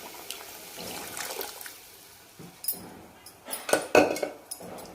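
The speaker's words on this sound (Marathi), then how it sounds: "थोडंसं गरम पाणी टाकते" Hot water poured into a pan of frying mutton masala for a village-style mutton curry, starting quiet, then splashing and sputtering in bursts with a metal clink or two, growing louder toward the end.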